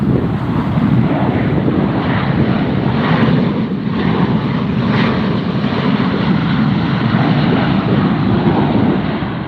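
A jet airliner rolls in on arrival at Las Vegas airport, its steady engine roar loud and close under gusty wind buffeting the microphone, holding constant throughout with no voices.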